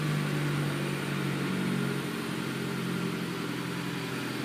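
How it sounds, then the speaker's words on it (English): Two Honda fuel pumps in a homemade turbocharged car whine steadily under a constant engine drone and cabin noise, close and continuous throughout. "That whining noise, by the way, is the fuel pump."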